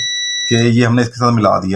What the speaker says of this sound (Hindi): मैंने इसको जब 8 पे किया तो ये देखें आपको बीप सुनाई दे रही होगी